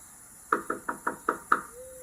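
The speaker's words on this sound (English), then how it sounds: "I knocked one more time out of desperation" Six sharp knocks on a door at a fairly even pace, close and distinct, followed by quiet.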